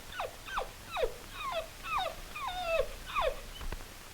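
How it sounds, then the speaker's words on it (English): A puppy in a 1938 radio drama whimpers in a series of about eight high, falling whines, evenly spaced, close and fairly quiet with no talk over them. "What's a big idea hitting a puppy?"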